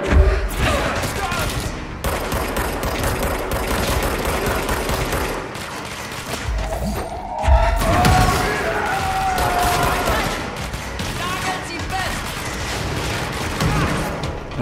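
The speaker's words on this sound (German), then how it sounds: "sind aber auch Explosionen hier" Video game Control gunfight: rapid bursts of automatic gunfire and heavy explosions rumble on and off over fifteen seconds, loud and dense, with game effects and sci-fi tones mixed in.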